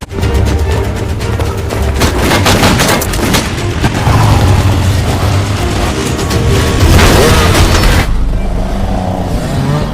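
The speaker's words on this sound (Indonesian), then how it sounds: "datang 3 orang suruhan Alvarez sehingga terjadi tembakan dan kejar-kejaran" Gunfire during a movie shootout and chase, heard as dense, loud bursts of rapid shots over a rumbling action soundtrack. The barrage continues for most of the clip, then thins out toward the end.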